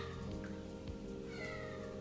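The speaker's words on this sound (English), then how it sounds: "Sorry if you can hear her meowing." A cat meows insistently nearby, a couple of drawn-out wavering cries over a low steady hum.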